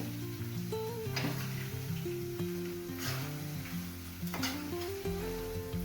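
Soybean chunks frying in oil for soybean 65, a soft continuous sizzle with occasional stirring clinks, under steady background music.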